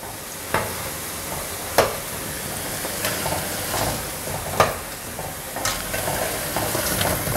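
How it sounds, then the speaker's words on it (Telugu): Punugulu fritters made from dosa batter fry in hot oil with a continuous sizzle, broken by several sharp stirring clinks and scrapes at irregular intervals, with no talk. "కొంచెం మనకి ఆ బ్రౌన్ ఎంత వరకు కావాలి అనేది చూసుకొని వేపుకోవాలి"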